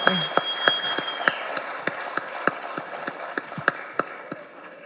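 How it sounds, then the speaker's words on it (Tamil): At a film pre-release event, scattered clapping rises from the audience as parents are invited onto the stage, a loose rhythm of separate sharp claps repeating at moderate loudness. "பெரிய கைத்தட்டல் கொடுத்துடலாம்"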